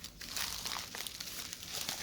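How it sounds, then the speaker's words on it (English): The plastic bag of a gnome cross-stitch craft kit crinkles and rustles up close in a short, continuous burst of handling. "So let's see what's in the plastic bag."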